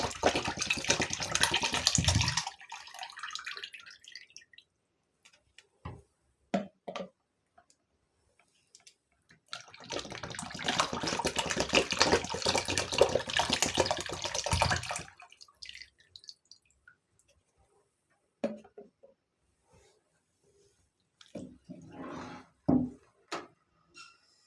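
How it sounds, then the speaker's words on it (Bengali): Three liters of milk are poured into a pot for date-jaggery payesh, a splashing liquid pour in two long bursts separated by scattered drips and clinks, close and moderately loud. "আমি এখানে 3 লিটার পরিমাণে দুধ দিয়ে দিব"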